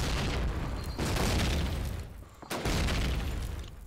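A grenade bursts in Call of Duty: United Offensive during a competitive cup final match: a loud, dense boom with a broadband roar that fades, then a second sharp burst, set against continuous game noise.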